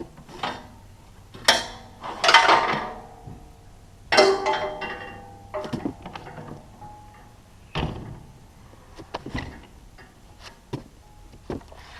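A heavy 225-pound door on a forcible-entry training simulator is lifted off its two hinge pins, giving a series of irregular metallic clunks, knocks and scrapes, close and fairly loud, with no one talking.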